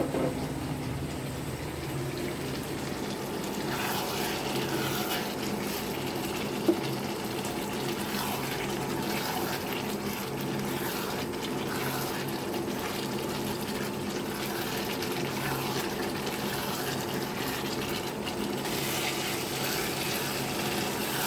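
Water poured from a vessel into a pot of browned, cooking meat, a steady hissing, gushing stream that runs evenly throughout, with one small clink partway through.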